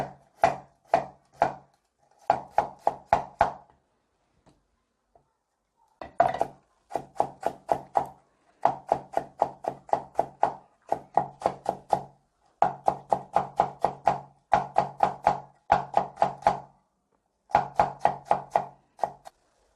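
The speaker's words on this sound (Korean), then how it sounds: "소바에 올릴 고명으로 오이가 올라갈 건데요. 이거를 가늘게 채 썰어주세요." Knife finely julienning cucumber on a cutting board, a steady run of rapid, crisp taps in bursts with short pauses, close and clear with no talking.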